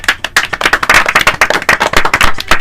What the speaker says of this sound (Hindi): सही जवाब भेजने वाले साथियों के लिए जोरदार तालियां।